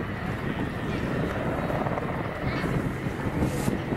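An Apache attack helicopter flying a wing-over display manoeuvre at RAF Cosford gives a steady, broad rotor and turbine roar that fills the scene without letup, buffeted by wind noise on the microphone.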